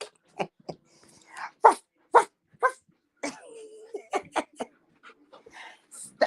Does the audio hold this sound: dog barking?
yes